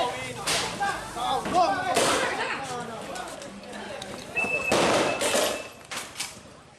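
Firecrackers hurled at police during a street brawl in Makassar, several sharp cracking bangs at irregular intervals under shouting voices and crowd noise.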